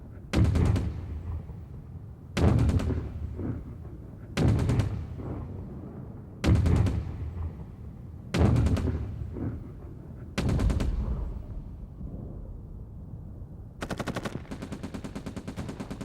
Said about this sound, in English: As soon as they started to advance, they came under heavy fire